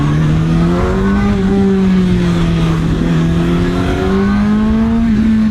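A CFMOTO 750 SR-S motorcycle accelerates under throttle in first gear, its engine note climbing in a loud, close, steady rising drone with brief shifts in pitch.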